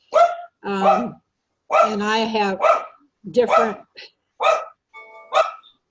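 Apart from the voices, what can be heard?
dogs barking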